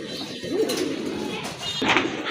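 Pigeons coo softly nearby, low throaty murmurs repeating a couple of times over a light background hum, at a pigeon market.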